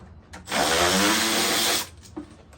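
A small power tool whirs steadily for just over a second, removing the 8mm-socket screws from the throttle body of a 2012-2017 Jeep Wrangler, up close and alone, with brief quiet gaps before and after.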